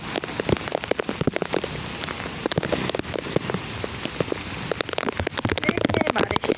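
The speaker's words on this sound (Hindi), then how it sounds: "अच्छी बारिश हो रही है, बारिश तेज़ हो गई है" Heavy first monsoon rain pours down in Karachi, a dense, close, continuous patter of drops hitting surfaces with sharp splashes and crackles throughout.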